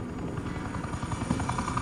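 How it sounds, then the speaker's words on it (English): Video game helicopter from Batman: The Enemy Within, a loud continuous rotor thump with dense engine roar, close and steady throughout with no voices. "They gave her a helicopter?"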